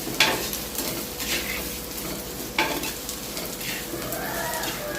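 Onions frying in oil in a pan until brown, a constant close sizzle broken by a few sharp scraping stirs of a spoon.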